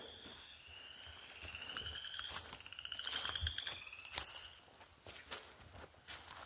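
Frogs croak and trill in the night, with soft footsteps crunching nearby underneath the chorus.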